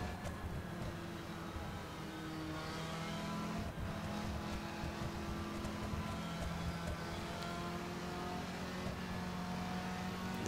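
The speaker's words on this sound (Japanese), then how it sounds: "これがエンジンブレーキか。" A car engine in the PC racing game The Crew hums steadily with a smooth whining drone as it decelerates under engine braking on a highway, continuous and fairly loud throughout.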